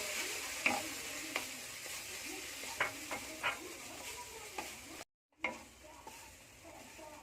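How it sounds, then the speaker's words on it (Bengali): Spice paste mixed with cashew paste is stir-fried in a pan, with repeated scraping strokes of a spoon over a soft, continuous sizzle and one brief gap in the sound. "মশলাটা এভাবে লাল লাল করে ভেজে নেব দিয়ে দেবো কাজু বাদাম বাটা ভালো করে এটাকে কষিয়ে নেব"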